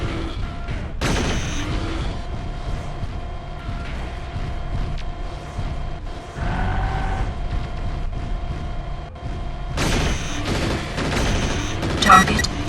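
Pulse lasers strike a mech in the MechWarrior 4: Vengeance game: dense, rapid bursts of crackling weapon fire over a low mechanical rumble, steady through the middle and louder near the end, with a voice talking over it.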